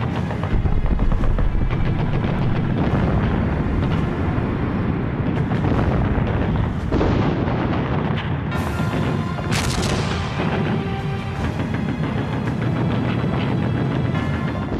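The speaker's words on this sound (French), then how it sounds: "Et puis soudain, 1220 canons allemands se déchaînent sur une largeur d'environ 13 km." A massed German artillery bombardment on the Western Front at Verdun in 1916, some 1,220 guns firing along a 13 km front: dense, continuous roaring barrage of overlapping blasts and rumbling explosions, loud and unbroken throughout.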